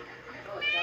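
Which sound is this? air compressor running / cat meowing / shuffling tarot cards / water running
cat meowing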